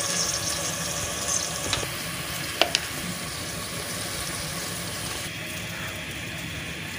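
Dry spices and crushed chili go into a frying pan of hot oil, a soft steady sizzle with a couple of light clicks from a spoon against the pan, fairly quiet and without talk.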